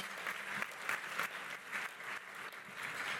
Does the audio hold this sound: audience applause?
yes